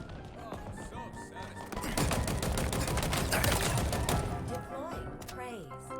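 Commando rifle fire in Halo Infinite multiplayer, rapid bursts of shots that build to a dense, loud stretch in the middle, layered with game effects and some voice activity.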